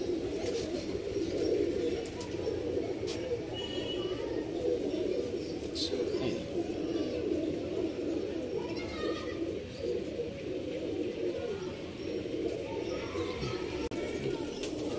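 Pigeons in a loft keep up a steady chorus of low, throaty cooing, many birds overlapping close by, with scattered faint chirps and occasional rustles above the continuous murmur.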